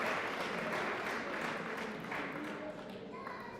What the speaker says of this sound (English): Give them a round of applause for all the hard work that you've put into